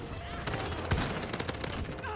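Rapid automatic gunfire from the Vitol gun in Modern Warfare 2019 rattles off in a short dense burst with a sharp crack near the middle. A voice can be heard faintly underneath.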